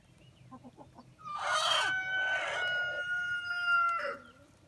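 Near her nest, a hen lets out a few soft clucks, followed by loud, drawn-out squawking cackles in two bursts and a final short call, close up and clear.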